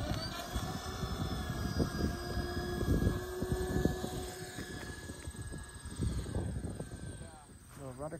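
A Flying Dutchman Kits Grumman Goose V2 RC model plane on its maiden flight, with a steady engine drone and whine as it glides in to land, while someone talks over it outdoors.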